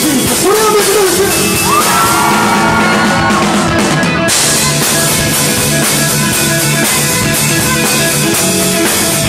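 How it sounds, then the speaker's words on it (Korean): Concert crowd at a club anniversary show yelling and whooping steadily throughout, loud and close, with music tones underneath and a brief bang near the middle. "소리 한번 질러주세요"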